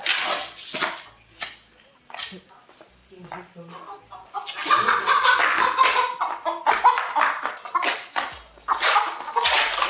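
A chicken clucks and squawks in bursts amid people talking in a town setting, the fowl calls loud and close, coming in scattered bursts early and then a busier, noisier stretch.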